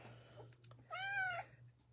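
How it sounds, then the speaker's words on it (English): A house cat gives one clear, drawn-out meow that rises and falls, faint and close, over a low steady hum in a quiet room. "My cat just came in here and jumped on my chair."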